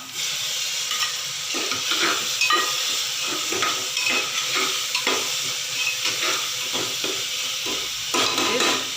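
Tomatoes fry in a pan with a continuous hissing sizzle, broken by repeated scraping stirs of a spoon at an even, moderate pace.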